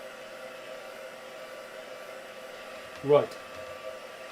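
A dryer blows steadily to dry a vintage Christmas craft piece, a soft, even whoosh close by, with a person briefly saying a word partway through.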